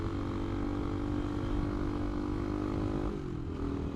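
A Bolton-built CCM Maverick motorcycle drones steadily while being ridden, its engine a smooth sustained hum that shifts in pitch briefly near the end.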